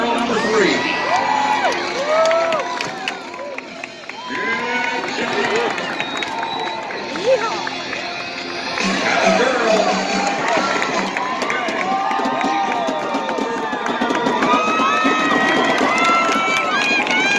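Crowd at a horse barrel race cheering, whooping and shouting continuously, loud and lively with overlapping voices rising and falling.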